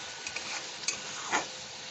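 A curry is sautéed and stirred in a pan, a soft steady sizzle with a few faint scraping stirs of the spoon, close and quiet with no voices.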